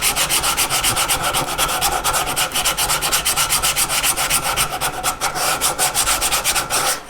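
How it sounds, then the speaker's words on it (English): Continuous rhythmic sanding strokes rub across a walnut charcuterie board, a fast, even back-and-forth scratching held up close and loud for several seconds with no voices. "I'm gonna go ahead and sand them out now"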